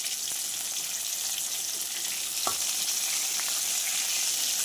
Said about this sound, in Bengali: দেখছো মাছগুলো বেশ সুন্দর ভাজা হচ্ছে